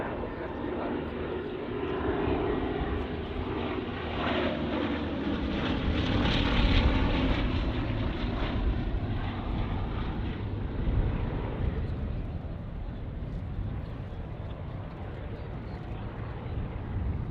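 A Bristol Blenheim bomber flies past at the Duxford Battle of Britain airshow, its propeller engine drone broad and steady, swelling as it nears and then fading gradually.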